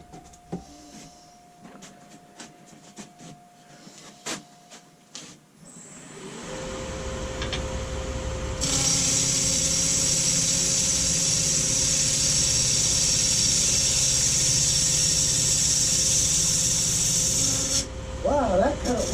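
An Øland cutting tool takes a cut in wood and throws off big shavings, a loud, steady, continuous rasping grind that starts after a few light taps and knocks and runs for about ten seconds before stopping.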